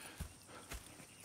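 Horse hooves clip-clop in Red Dead Redemption 2, a few separate soft thuds spread over about a second, faint and close, with no clear whinny.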